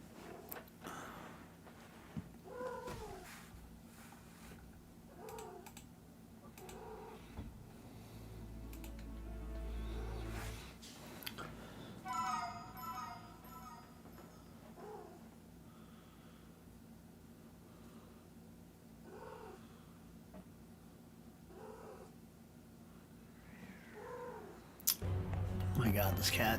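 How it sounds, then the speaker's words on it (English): A cat meows repeatedly in short, insistent calls spread across the stretch, close by, with intermittent keyboard typing and a person speaking at times. "Oh my god, this cat."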